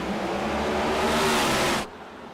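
Race cars in an ICON Cup Series race at Watkins Glen roaring loudly and close in a dense engine wash that cuts off abruptly near the end, leaving a quieter hum.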